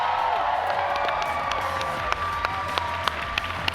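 A live audience at a Borderlands 3 gameplay reveal breaks into sustained applause and cheering, dense clapping with whoops over a continuous crowd roar, a few sharp claps standing out near the end.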